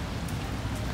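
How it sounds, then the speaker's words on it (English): Steady rain falling outdoors during a concert trip, a dense even hiss of drops with no voices over it. "it's raining still"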